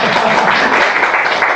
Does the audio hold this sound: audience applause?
yes